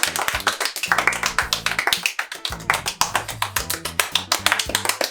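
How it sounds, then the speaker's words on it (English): A group of children clapping as fast as they can, a dense, rapid patter of sharp claps over a few seconds, close and loud, with faint voices mixed in. "I'd like you to clap as fast as you can."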